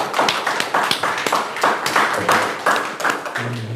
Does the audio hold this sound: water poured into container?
no